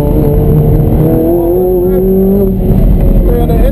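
A Ferrari F430 Scuderia on an autocross course at Candlestick Park, its engine roaring loudly and steadily up close with rising and falling pitch, a voice calling out faintly beneath the din.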